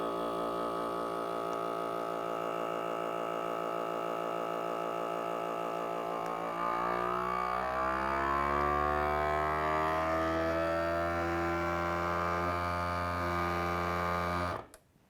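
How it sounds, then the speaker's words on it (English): A vacuum sealer drones steadily for about fourteen seconds while vacuuming and sealing a bag of ground wild game meat, its motor pitch shifting partway through before stopping abruptly; loud and close with no talk. "we're going to hit the vac seal button, which is going to vacuum this and then seal that bag."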